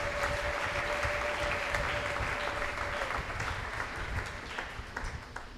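A church congregation applauds in a dense, steady wave of clapping that fills the room and fades slightly toward the end.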